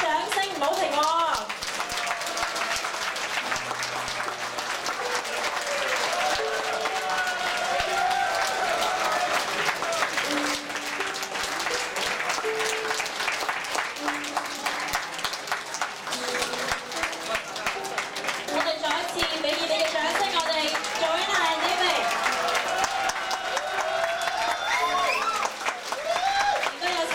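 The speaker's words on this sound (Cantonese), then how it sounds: "大家掌聲唔好停喎" Sustained audience applause for a pair of harp players, a thick, even wash of clapping that never lets up, with someone speaking on top of it.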